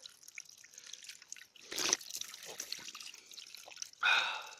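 Clear water trickles and drips in a permaculture garden, quiet and close with uneven splashes and a couple of louder gushes, and faint voice sounds mixed in.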